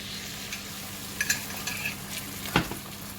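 Egg frying in a little oil in a pan for noodles, a steady soft sizzle with occasional light clinks and stirring scrapes, close and fairly quiet, no talking.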